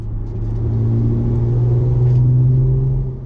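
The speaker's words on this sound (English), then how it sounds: "so that you could get a cool little sound clip of his car" A Chrysler Crossfire SRT6 passes on a race track, a steady engine roar holding for a few seconds, loud and close, with a low rumbling tone that swells and fades slightly.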